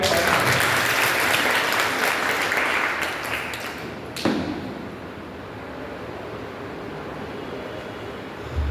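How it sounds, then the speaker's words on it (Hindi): Loud, dense applause from a crowd at a live motivational seminar, sustained for about four seconds, then cut by a sharp thump and settling into a softer, continuing wash of clapping. "जोरदार ताली से भैया का"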